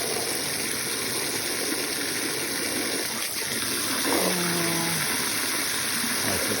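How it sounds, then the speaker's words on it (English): Water pouring into a bowl during a daily routine with ducks, a steady loud gushing rush that runs throughout, with a brief rising tonal shift near the end. "Me filling up a bowl with water."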